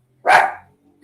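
A dog lets out a single sharp, loud bark nearby, followed by a faint short yip a moment later, with otherwise quiet surroundings.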